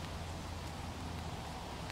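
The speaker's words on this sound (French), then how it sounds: "La pluie s'invite apparemment." Rain falls steadily on a tent during a forest bivouac in a thunderstorm, making a dense, even patter that fills the whole moment with no voices.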